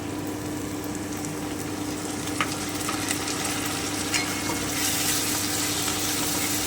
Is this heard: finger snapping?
no